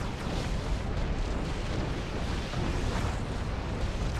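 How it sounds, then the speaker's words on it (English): An AT-AT walker blows up during a large Star Wars WARNO battle, heard as a continuous roaring, rumbling blast wash that stays fairly quiet and even throughout. "Look at this AT-AT getting destroyed here."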